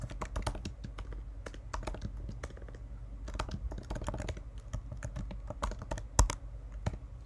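Fingers type on a Mac computer keyboard while entering a terminal command, a close, crisp run of irregular key clicks in quick bursts with short pauses, heard alone without talk.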